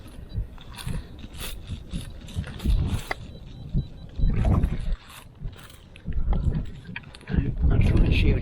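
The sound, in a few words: strong 40-mile-an-hour wind blowing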